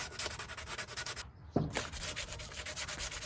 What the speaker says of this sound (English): I'm going to take the sandpaper and I'm going to hit these spots that we had with the chipping